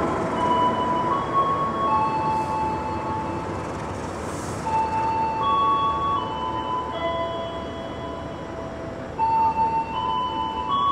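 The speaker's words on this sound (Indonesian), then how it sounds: "Ini adalah kereta Jayakarta dari Surabaya Gubeng tujuan Pasar Senen." The Jayakarta passenger train from Surabaya Gubeng to Pasar Senen rolling along with a continuous rumble and scattered high metallic squeals and tones from wheels and rails, steady and fairly loud.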